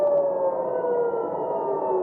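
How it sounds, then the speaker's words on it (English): An air raid siren in Israel wails loudly and steadily during an Iranian missile attack, a sustained tone sliding slowly downward. "A wave of Iranian missiles triggered air raid sirens in Israel"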